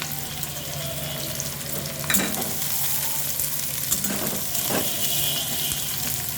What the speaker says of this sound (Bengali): একসাথে দিয়ে দেবো পেঁয়াজ কুচি, আদা কুচি আর রসুন কুচি।